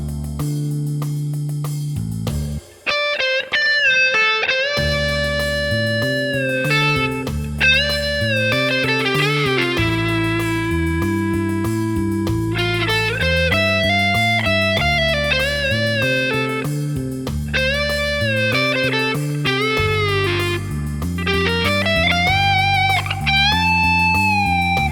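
An electric guitar with distortion plays the first solo, sustained bending lead notes over a steady accompaniment, loud and continuous for the whole stretch without talking.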